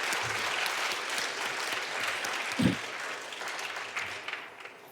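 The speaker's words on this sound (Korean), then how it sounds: "우리 박수 한번 드리겠습니다" A church congregation applauds the choir and orchestra at a Christmas Sunday service, a sustained moderate clapping from a large room that carries on for several seconds, with a brief thump partway through.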